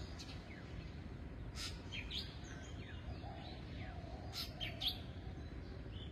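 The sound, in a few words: birds chirping in the early morning in a village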